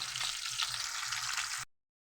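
Chopped onions with fried and green chilies frying in a pan, a soft continuous sizzle with light crackles, ending abruptly into silence.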